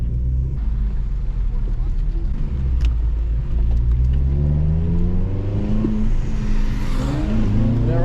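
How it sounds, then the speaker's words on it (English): A Honda Civic FN2 Type R engine rumbles and revs steadily as the car pulls out onto a wet Donington Park racetrack, the pitch climbing through each gear under continuous cabin noise, with a voice talking over it. "we are just pulling out onto Donington racetrack right now"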